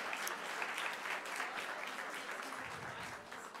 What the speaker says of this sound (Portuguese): Você pode aplaudir a Jesus por isso?